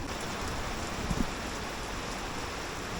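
Steady rain falling around people eating a meal outdoors in the Philippine countryside, a soft continuous hiss with a brief small clatter partway through and no voices.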